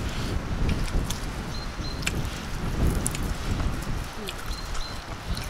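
Outdoor wind gusts buffet the microphone on a sunny day, producing a low, uneven rumble that swells and dips, with faint scattered rustling over it.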